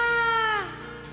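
A radio host imitates a cat's meow with his voice: one drawn-out, close, loud mewing cry that slides downward at the end, heard alone in a studio.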